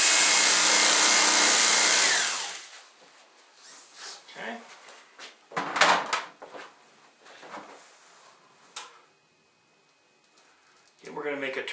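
A knife cuts through the foam insert of a Pelican 1750 rifle case. Brief scraping and rubbing bursts sound close by after a loud rushing opening, mixed with quiet talk.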